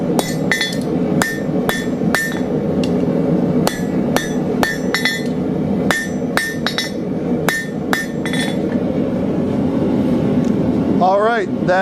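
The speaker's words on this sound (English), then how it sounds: "we're hammering straight onto the steel going down" A blacksmith hammers hot steel for a portable campfire grill, sharp ringing metallic strikes in uneven bursts of two and three, loud and close, over a steady background hum with voices present.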